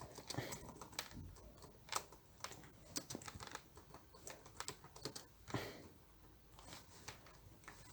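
Rapid, irregular clicking of a computer keyboard as C++ code is typed, with quick bursts of keystrokes and short pauses, close and fairly quiet with no talking.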